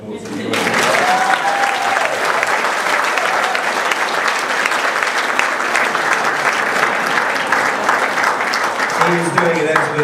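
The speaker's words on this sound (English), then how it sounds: "give Ross a round of applause" An audience breaks into loud, sustained applause at a Toastmasters event, a dense wash of clapping that holds steady for several seconds after a brief spoken line.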